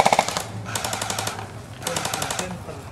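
Rapid bursts of machine gun covering fire crackle in repeated volleys during an airsoft-style battle game, loud and close with short pauses between strings of shots.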